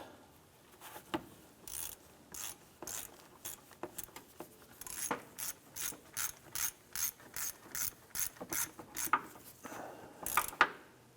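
A ratchet and socket tighten the lower power steering pump bolt on a 2004-2008 Acura TL during timing belt work. Quick, regular strokes give bursts of sharp pawl clicking, close and clear, gradually speeding into a steady rhythm.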